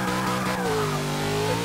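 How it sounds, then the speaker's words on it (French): A car in Forza 6 slides into a handbrake drift, its engine droning steadily while the tires squeal in a long, continuous skid whose pitch bends downward, loud and close. "On va mettre un petit coup de frein à main"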